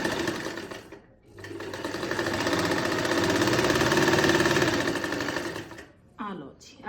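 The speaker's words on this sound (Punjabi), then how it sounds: "ਇਹਦੇ ਉੱਪਰ ਨਾ ਆਪਾਂ ਦੇਖੋ ਜੀ ਸਲਾਈ ਲਗਾ ਲੈਣੀ ਆ ਪਲੋਈ ਦੇ ਉੱਪਰ ਸਿੱਧੀ ਸਿੱਧੀ" A sewing machine stitches straight along a pleat in lined fabric, a fast, loud, steady mechanical whirr running several seconds, then stopping and briefly restarting, with someone speaking around it.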